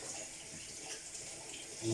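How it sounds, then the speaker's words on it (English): A kitchen tap running cold water for a quick hand wash, a faint, steady hiss of flowing water in a quiet room without talk. "just to give my hands a quick wash with cold water"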